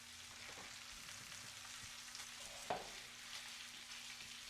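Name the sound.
bacon frying in a pan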